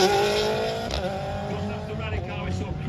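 A 1600cc turbocharged rally car of about 1200 kilos pulls away down a hill run, engine note loud and close at first, then fading slightly with some tyre noise, no voices.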